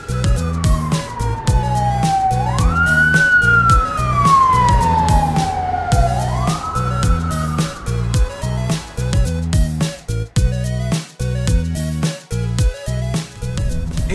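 A real ambulance siren wails loud and near, sweeping slowly up and down in long rising and falling cycles over steady background music, with no one talking.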